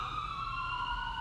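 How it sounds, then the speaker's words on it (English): Ambulance siren wailing with a steady, slowly falling tone, fairly loud and close, heard alone in a short burst. "Oh, that's the ambulance."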